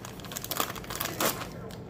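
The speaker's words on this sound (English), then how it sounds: "So we're just going to dump both of these into one plastic bag." Plastic bags crinkle and rustle as they are opened and raisins and golden raisins are dumped into a single plastic bag, a close, continuous crackling with a louder burst midway.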